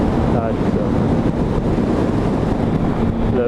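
Wind buffeting a motorcycle rider near water on a ride with his father, a loud continuous rushing roar over the microphone with the low drone of the bike underneath, steady throughout.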